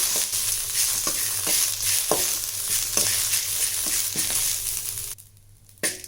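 Curry leaves and garlic fry on a low flame for a Tamil kuzhambu, giving a steady close sizzle with regular spoon-stirring scrapes, then a brief lull near the end before a final stir.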